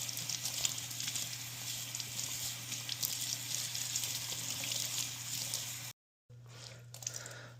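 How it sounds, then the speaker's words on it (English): Tap water runs steadily onto a towel for covering a sourdough bowl, a faint close splashing hiss with light drips, cut off briefly near six seconds and then resuming more softly. "we're going to wet the towel"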